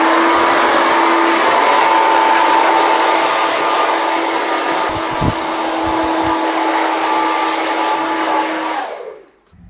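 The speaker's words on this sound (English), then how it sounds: "Now, blast it with a bit of cold air again." A hair dryer blows cold air onto hair during a classic barbershop haircut, a steady loud whooshing roar lasting nearly ten seconds before cutting off, with a brief thump midway and no talking.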